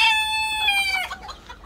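A Bresse-type hen in a poultry coop gives a single drawn-out call that drops in pitch and trails into a rough clucking murmur, close and fairly loud.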